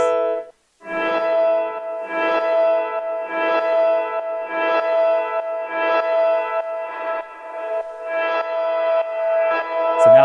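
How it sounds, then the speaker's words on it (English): A music sample resampled through a reverb effect in a live studio beat-making setup plays as loud, sustained tonal chords in repeated swelling pulses with a washy, echoing tail, no voices. "So now it's resampled with the reverb."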